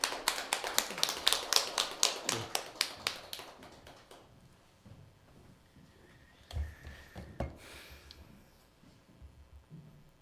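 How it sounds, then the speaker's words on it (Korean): Church congregation claps briefly to welcome an elder to the pulpit, a quick run of sharp, fairly close claps that thins out into a few scattered taps. "열렬한 박수로 환영해 드리겠습니다."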